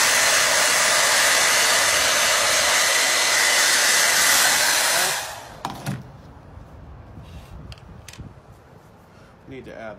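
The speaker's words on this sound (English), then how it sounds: "Let's heat them up." A hair dryer or heat gun blows steadily and loudly while heating WoodUbend moulding, running about five seconds before switching off, followed by quiet handling clicks and light rustling.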